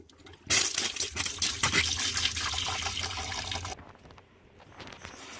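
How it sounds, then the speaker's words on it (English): Water bursts out of a broken pipe with a loud, hissing spray for about three seconds, then cuts to a quieter trickle. "turn the water on and see where it's spraying from"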